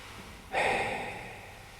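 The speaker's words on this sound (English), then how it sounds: "Now we're going to do a classic all-purpose hall effect." A single breathy, airy burst of whispered sound, heavily washed in long hall reverb that lingers and slowly fades after it stops.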